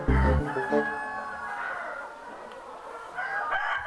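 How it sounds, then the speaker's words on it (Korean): Hens and roosters on a farm floor covered with rice husks cluck and crow together. A loud rooster crow opens, followed by a steady mix of clucking and calls nearby. "왕겨가 깔린 쾌적한 바닥에서 암탉과 수탉이 만나 자유롭게 놀고"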